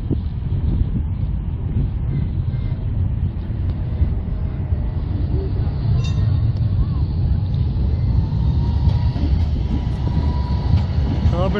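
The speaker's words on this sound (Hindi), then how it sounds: "यहाँ पे ट्राम बहुत चलती है" A tram rolls through Zurich's city centre with a continuous rumbling, whooshing roar of wheels on rail, heard close and loud along with wind buffeting the microphone throughout.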